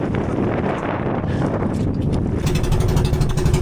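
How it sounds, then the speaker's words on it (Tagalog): Strong wind buffets the microphone with a constant roar, mixed with the wash of waves and a boat's hum. "Lumalakas na naman yung alon. Tapos yung hangin din."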